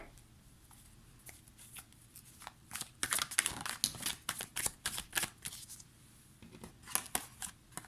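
Witches' tarot cards being shuffled by hand, a run of quick, crisp riffling and flicking bursts close by, soft at first and then denser in the middle.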